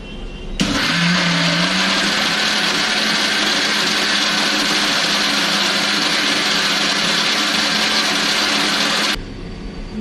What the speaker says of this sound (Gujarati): હવે મિક્સર જારમાં પીસી લેશું.